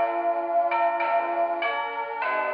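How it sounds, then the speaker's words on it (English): An electronic holiday doorbell chime plays a short melody of bright, ringing tones, a few notes shifting in pitch, clear and close with no talking. "You press it for New Year's Eve, and this becomes your doorbell."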